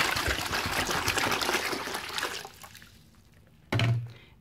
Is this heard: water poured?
yes